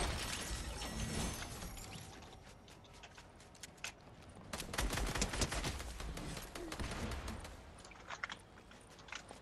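Rapid bursts of video game gunfire crackle through a dense, noisy mix, swelling in the middle and continuing in quick volleys, with no talk over them.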